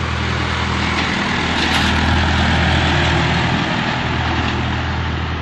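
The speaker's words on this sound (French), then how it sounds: "Ah, il y a un tracteur qui va passer." A tractor passes a farm pond with a pumping setup, giving a steady, loud low engine rumble that holds throughout with a slight swell in the middle, no talk.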